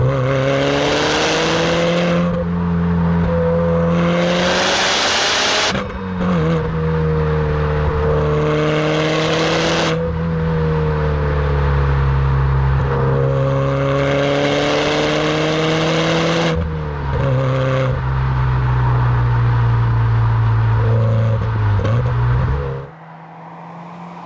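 A Subaru Impreza engine revs hard and climbs repeatedly through the gears, each surge rising in pitch before a brief drop, loud and close.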